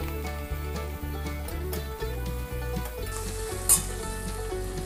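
Grated ginger and finely chopped green chillies fry in a pan for aloo sabzi, a steady close sizzle with repeated rhythmic scraping as a spoon stirs them.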